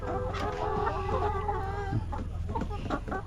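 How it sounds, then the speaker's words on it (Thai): Backyard hens clucking steadily, close by and continuous, with overlapping murmuring calls and a few sharper notes, as the flock is expected to lay its first egg. "พาทุกคนมาเบิ่งไก่ของเฮา"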